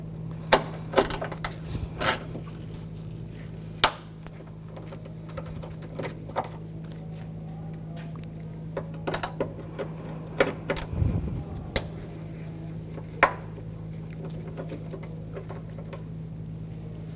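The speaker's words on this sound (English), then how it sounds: "Using an 8mm socket, we're going to take these screws out." An 8mm socket backs screws out of a 2000-2006 BMW X5 during a headlight ballast control module job, giving scattered small metallic clicks and ticks over a steady low hum.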